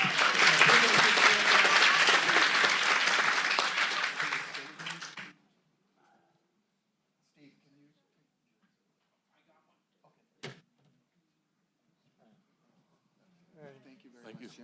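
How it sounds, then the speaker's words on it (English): Audience applause for an honoree at a county board of supervisors meeting, a dense burst of clapping lasting about five seconds before fading into near silence with a few faint scattered sounds. "Let's give him another round of applause"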